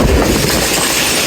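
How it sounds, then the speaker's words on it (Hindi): The Jaffar Express, a passenger train, rolls through a green rural railway station. There is a loud, steady rumble of wheels on the rails, heard close up with no voices. "टर्की रेलवे स्टेशन से पास थ्रू हो रही है हमारी 40 टाउन जाफर एक्सप्रेस।"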